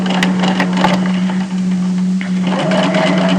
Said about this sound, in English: So we sew 1 centimetre or 3/8 of an inch first, and this will put the seam on the outside.